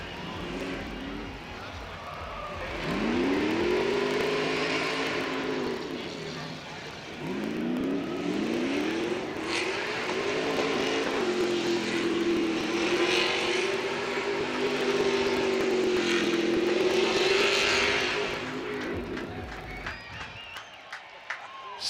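Super Stadium Truck engines roar on the Long Beach street circuit, loud revs rising and falling as trucks accelerate and pass, with crowd noise behind and an announcer talking over the action.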